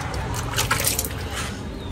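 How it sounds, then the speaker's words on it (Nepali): Water is poured onto flowering plants, making a steady, close splashing and trickling over soil and leaves that lasts throughout. "अहिले चाहिँ म फुलमा पानी हाल्दैछु गाइजहरू है"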